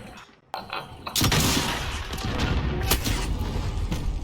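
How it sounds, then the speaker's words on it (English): In a video game, a rocket launcher fires with a loud, close, booming blast that fills the frame, followed by sustained rumbling explosion noise and further heavy impacts. "He pulled out a rocket launcher"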